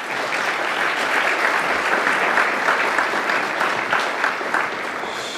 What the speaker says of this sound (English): If we give her a round of applause.